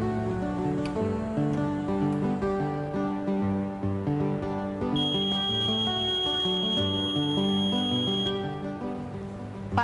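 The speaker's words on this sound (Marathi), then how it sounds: "या बीप आवाजामुळे मतदान केंद्राध्यक्षाला मतदान पूर्ण झाल्याचं कळतं।" Electronic voting machine control unit gives one long, steady, high-pitched beep lasting a few seconds, heard over continuous background music.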